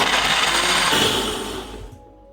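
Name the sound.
blender blending ginger, garlic, chili, basil and water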